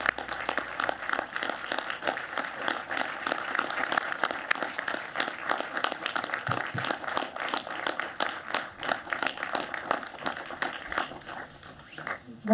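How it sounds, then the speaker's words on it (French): Sustained applause from a cinema audience at a film premiere in Lille, dense steady clapping that continues for the whole stretch and thins slightly near the end. "On peut l'applaudir très chaleureusement."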